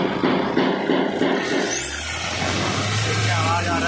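Mahindra Scorpio engine with a missing bolt, revving up under acceleration: a loud, steady low engine drone builds and holds, with some rattly noise over it, recorded close by.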